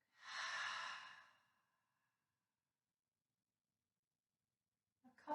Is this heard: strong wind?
no